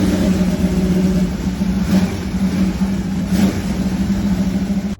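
A 1938 Chevrolet Coupe converted into a hot rod runs loud and close, its deep engine note steady with slight rises in revs throughout, then cutting off abruptly at the end.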